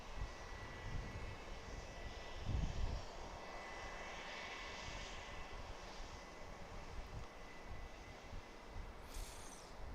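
A jet airliner rumbles steadily through a landing at Dallas Love Field, a broad, continuous roar heard at a distance with a brief higher whine near the end and no talking.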